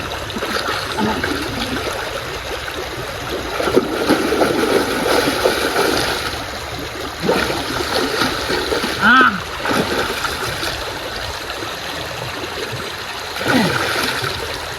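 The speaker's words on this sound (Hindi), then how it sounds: "शांति से पानी में देखो, आवाज़ सुनो, साउंड" Water flowing and splashing at an outdoor bathing spot, a steady stream with occasional louder splashes, fairly close and continuous for the whole stretch.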